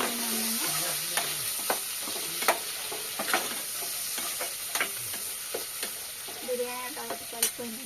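Tomato pieces frying and being stirred in a pan for egg pulao, a steady sizzle with repeated scraping clicks of a utensil throughout, close and fairly quiet, with no talk.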